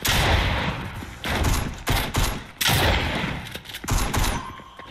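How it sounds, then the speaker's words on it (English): Gunfire from the Fortnite prop hunt mode rings out in loud, dense volleys, heavy bursts repeating every second or so with short dips between. "Dude, he shot right at me."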